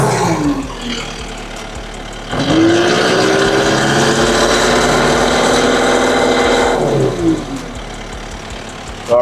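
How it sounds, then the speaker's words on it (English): A Takeuchi skid steer engine runs at idle, then revs up and holds a loud, steady higher-pitched drone for several seconds before easing back down to idle, close by with no talking. "So everything seems to be running great, accelerating great."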